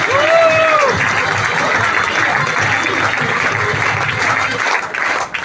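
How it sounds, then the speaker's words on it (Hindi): Loud, sustained clapping from an audience at a company recognition meeting, continuous throughout, with a brief tonal whistle or squeal near the start. "जोरदार तालियां"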